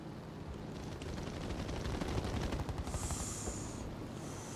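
Gunfire during a video game aircraft battle, a continuous rattle of rapid shots over a dense engine roar, steady and fairly loud with no talking.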